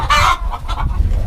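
Hens crowded three into a single rollaway nest box cluck in short, close bursts, loud against a low rumbling background.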